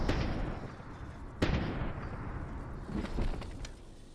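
Rocket launcher fire and explosions in Fortnite, a rumbling blast-heavy stretch with a sharp bang near the middle and a second swell of detonations toward the end, loud and alone with no talk.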